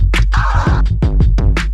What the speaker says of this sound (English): two stabs and a release